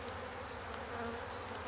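Honey bees buzzing around a hive entrance, a steady continuous drone from several insects close by, with no voices and no pause throughout.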